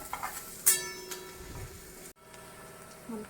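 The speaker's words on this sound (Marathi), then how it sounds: "हा लाल कांदा झाला, चांगलं भाजलं गेलं" Onion frying in a pan for a dried-fish sukat chutney, a soft, steady sizzle with a few scraping stir clicks, one sharp clink near the start and a brief dropout partway through.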